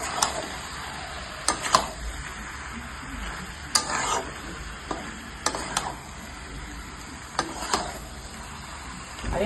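Mutton with spices is stirred and fried in a pan, with a quiet sizzle under repeated sharp scrapes and taps of the spoon at an uneven rhythm and no voices.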